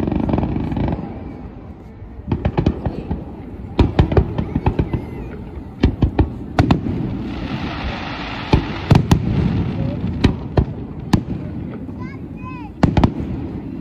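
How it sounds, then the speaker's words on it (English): A fireworks show at the Blackpool World Fireworks Championships, India's display, with repeated sharp bangs and crackling bursts over a rumbling wash, distant booms in irregular clusters, and crowd chatter faintly underneath. "Enjoy the fireworks."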